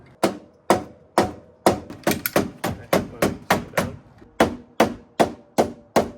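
Sharp hammer blows strike a crashed Mazda RX7 FD body panel, about fifteen loud, close metallic whacks in a fairly steady but uneven rhythm with no talking between them.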